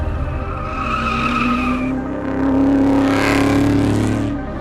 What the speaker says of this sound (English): Fredrich dips in and out of alleyways and streets, accelerating away from the strange car, but the car persists